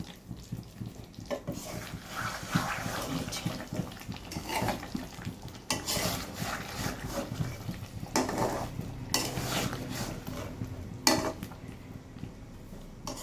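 Olive pickle being stirred and sautéed in a pan for a homemade Bangladeshi jolpai achar, with steady scraping and clinking of a utensil against metal over a low continuous cooking hiss, no talking.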